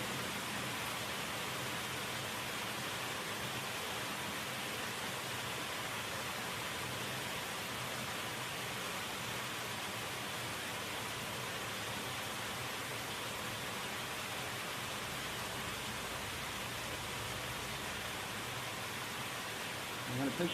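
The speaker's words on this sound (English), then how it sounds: "Raining." Steady, dense rain hiss falling on a surface, constant and fairly loud throughout with no breaks.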